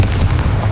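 A Confringo blasting spell explodes in Hogwarts Legacy, a short, loud, deep boom with a rumbling low end that fills the whole moment.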